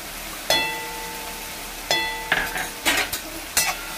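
A spoon stirs onion, tomato and ginger-garlic paste frying in oil in a metal pan, with several sharp clinks and scrapes against the pan over a soft, steady sizzle, close and without talk.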